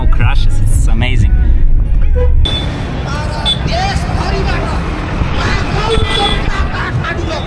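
Dense Kathmandu street traffic with car and bus horns tooting repeatedly over engine rumble and crowd chatter, a loud blaring horn at the start, then scattered shorter honks amid busy noise.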